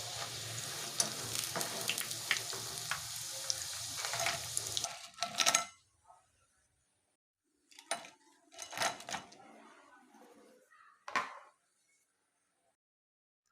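French fries made from potato and egg are lifted out of hot oil: a loud, close frying sizzle for about five seconds fades out, followed by a few scattered clinks and scrapes of a metal utensil against the pan.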